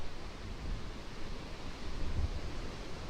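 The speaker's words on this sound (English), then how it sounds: "The sound of the ocean as the waves wash in and crash on the rocks." Ocean waves wash in and crash on rocks, forming a steady, dense roar of surf with no voices.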